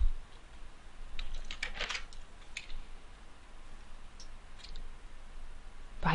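A computer mouse clicks while working in Photoshop Elements, a handful of light, sharp clicks in small clusters against a quiet room hiss, with no talking.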